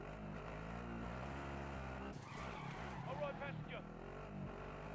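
A vehicle drives in Warzone, its engine humming steadily and then giving way to tire skids and revving as it turns, all fairly faint under voices talking.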